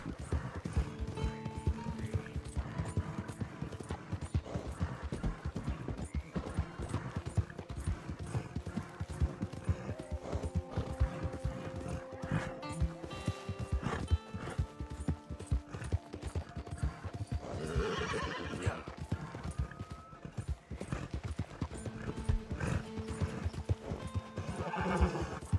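A horse in Red Dead Redemption 2 gallops with continuous rapid clip-clop hoofbeats, with repeated whinnies and neighs rising over the running, close and steady throughout.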